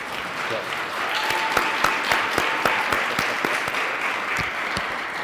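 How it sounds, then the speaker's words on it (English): Audience applause at a city mayor's State of the City address, a steady wash of many hands clapping with a few sharper claps standing out, holding evenly for several seconds at moderate loudness. "One more round of applause for our speakers."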